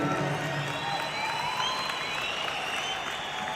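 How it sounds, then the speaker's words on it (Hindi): A large stadium crowd applauding and cheering at a motivational event, a continuous broad wash of claps and distant shouts, steady in level throughout with no gaps. "मैं चाहूंगा उनके लिए जरूर एक जोरदार ताली बजानी चाहिए।"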